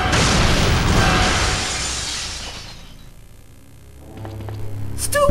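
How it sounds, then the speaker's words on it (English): A grenade blast in Resident Evil 3: Nemesis erupts as a loud, crackling burst that rolls on for a few seconds before fading, followed by softer game sounds. "Grenade!"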